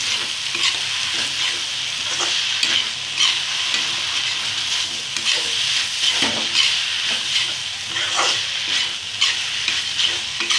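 Mint chutney being stirred as it fries in a pan, with chopped mint leaves added: a constant close sizzle and hiss, broken by repeated scraping stirs throughout, with no talk.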